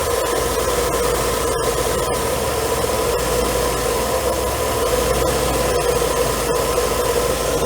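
A Mercedes W124 engine idles steadily during a California emission adjustment, a continuous close hum with broadband hiss and a faint whine, holding even throughout with no talk.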